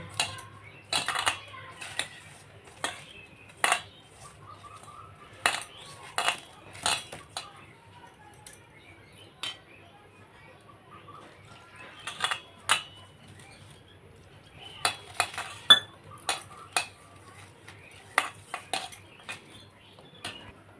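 A spoon or whisk clinks steadily against a bowl while batter for pointed gourd fritters is mixed with water, baking soda and salt, giving irregular bursts of sharp taps with brief pauses between, close and fairly quiet.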